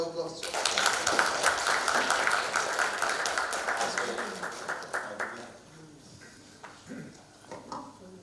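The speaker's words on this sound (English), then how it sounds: "Can you have a round of applause?" Audience applause follows a talk, a dense wash of clapping that fades after about five seconds into scattered claps and room noise.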